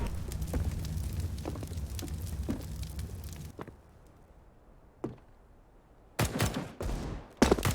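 Molotov fire and a flashbang thrown in a CS:GO match: loud rumbling gunfire and burning roar, then a sudden quiet stretch broken by a sharp bang, then more harsh blasts near the end.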